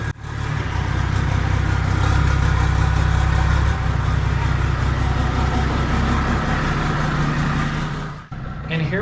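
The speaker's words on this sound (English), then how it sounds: "Now we're gonna do a quick test drive." A car with a roof-top tent on a low-profile roof rack mount drives on a quick test run, a steady low engine and road rumble heard from inside, with wind noise and faint talk.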